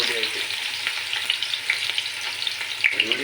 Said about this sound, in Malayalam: കുറച്ച് നെയ്യും കുറച്ച് എണ്ണയും പറഞ്ഞിട്ടുണ്ട്. അതിലേക്ക് നമ്മൾ ഉള്ളി ഇങ്ങനെ പൊടിയായിട്ടിടും.